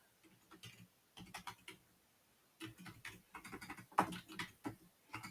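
Keys clatter on a computer keyboard in quiet, close bursts of quick light taps, with short pauses between runs and one sharper keystroke near the end.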